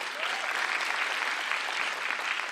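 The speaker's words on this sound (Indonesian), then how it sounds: "tepuk tangan dulu untuk Ili yang tadi tampil" An audience applauds a previous performer at a stand-up comedy competition, steady dense clapping from a sizeable crowd, fairly loud and unbroken from start to finish.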